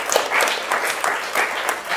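Audience at a panel event applauds the panelists, a short dense round of clapping at steady loudness with a few sharper individual claps standing out.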